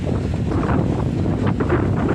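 Strong wind gusts outdoors buffet the microphone in a continuous loud rushing roar with no pauses.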